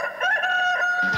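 A rooster crows once, loud and close, a sustained bright cock-a-doodle-doo call lasting about a second with no talk over it.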